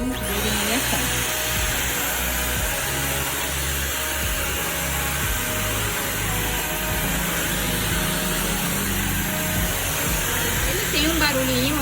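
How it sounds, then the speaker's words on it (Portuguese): A WAP Silent Speed 1000W stick vacuum cleaner runs with a steady, loud whirring hum from start to finish, while a person talks over it. "Eu já vi aspiradores de pó com mais barulho, mais ruído do que esse."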